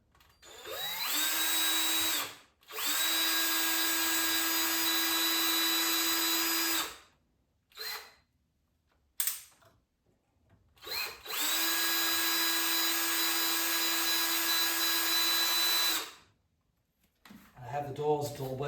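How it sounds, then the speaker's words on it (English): A power drill bores a pilot hole in wood with a batter-upper woodcarving tool nearby: two long, steady high-pitched whirring runs of several seconds each, with brief blips between them, close and loud, and a voice briefly at the end. "I'm gonna drill a pilot hole in here."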